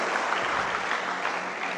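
Audience clapping at a Marathi motivational talk, a dense steady wash of many hands throughout, fairly loud and continuous with no voices over it.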